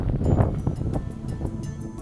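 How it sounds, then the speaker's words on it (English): Strong wind buffets the microphone in continuous low rumbling gusts on a desert trail at Lake Pleasant, Arizona, with faint rhythmic ticking underneath. "It's really windy."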